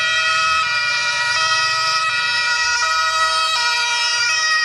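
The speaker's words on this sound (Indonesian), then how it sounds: "ternyata ada ambulan" Toy ambulance siren from a white toy ambulance, a loud steady electronic wail cycling in a repeating pattern throughout, with no talking.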